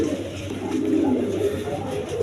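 High-flying Giribaz pigeons coo softly and continuously nearby, a low murmuring burble over faint background noise.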